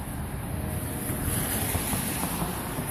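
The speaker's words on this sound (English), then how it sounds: "But the muddy river is running very fast." A fast-running, muddy, flooded river in Napa gives a steady, loud broadband rush of churning water, with no break across the short stretch and wind buffeting mixed in.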